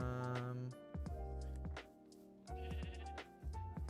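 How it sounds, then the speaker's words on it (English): Sheep in the video game Minecraft bleat several times in quick succession, clear and close, each call a wavering nasal cry with short gaps between them. "There are sheep here as well."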